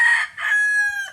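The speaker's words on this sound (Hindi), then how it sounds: "दिन में बांग दे रहा है मुर्गा" A rooster crows in the daytime, one loud, close cock-a-doodle-doo with a choppy start and a long, drawn-out final note.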